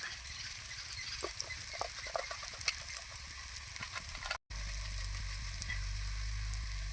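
Masala-coated chicken fries in a pan for a home-style country chicken curry, sizzling and crackling steadily with sharp spatters, briefly cut out, then a louder, denser hiss with low rumble.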